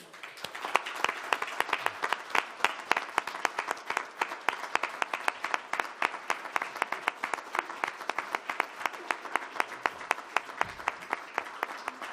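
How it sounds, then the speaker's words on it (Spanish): A hall audience gives steady, sustained applause for a prize winner at a literary award ceremony, dense even clapping throughout without talk. "a quien recibimos con un fuerte aplauso"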